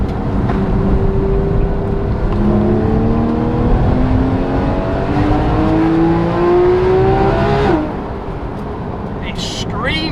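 Porsche GT3 RS engine revving high after downshifts, rising and falling engine tones sweeping upward several times, loud and close, then cutting off sharply near the end, with people talking over it.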